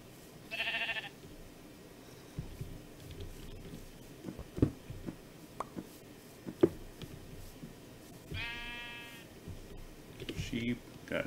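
Blocky sheep bleat in the Minecraft modpack FTB Horizons III, two short harmonic bleats near the start and end, separated by scattered clicks and soft game ambience.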